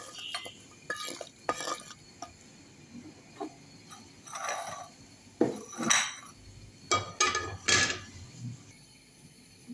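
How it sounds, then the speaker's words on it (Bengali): Jackfruit seeds poured into a dish: a scattered run of clinks, rattles and knocks against the container, bunching into louder busy bursts midway and fading between, with no voices. "কাঁঠাল দানাগুলো আমি ঢেলে রাখবো।"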